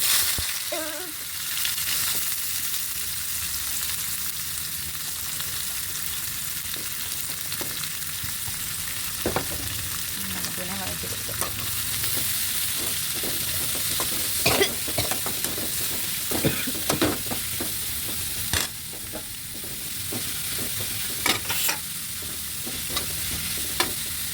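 Chicken pieces sautéing in a pan for a homestyle chicken perattu fry, a steady sizzle running throughout with frequent scraping stirs and small pops and clatters, fairly close, with no talking.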